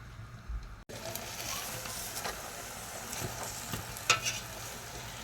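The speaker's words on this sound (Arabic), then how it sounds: "دابا غادي نقلي اللحم." Spiced meat frying in a pan with water and homemade olive oil, a sudden start of loud steady sizzling and bubbling, with stirring scrapes and a few crisp pops.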